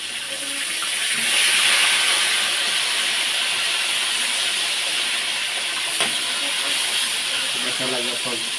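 Dorado fish frying in hot oil, a steady loud sizzle and hiss that swells early and holds throughout, close up, with a voice briefly heard near the end.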